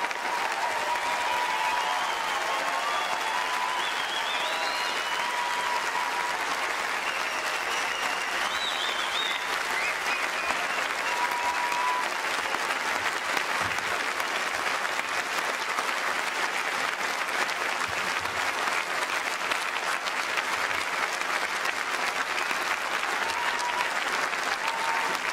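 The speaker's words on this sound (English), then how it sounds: "join me in one final round of applause for all our graduates today." A large audience at a 2008 graduation ceremony applauds the graduates in a long, steady wash of clapping that holds at full strength throughout, with faint voices now and then underneath.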